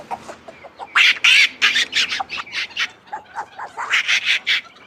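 A human voice imitates monkey noises close up with a run of bright, squeaky, bird-like cheeps and chirps in quick irregular bursts, loud and alone.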